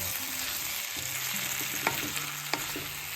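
Gethi and vegetables fry in a pan over an outdoor mountain fire, giving a steady close sizzle throughout with a couple of soft spoon scrapes and knocks from stirring, and no voices.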